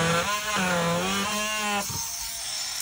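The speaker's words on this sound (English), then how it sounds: "these little knobs were on here with wooden dowels, so they just needed to be cut off" A small power saw cuts off wooden dowels holding little knobs, its motor whining in two rising and falling bursts up close before dropping away at the end.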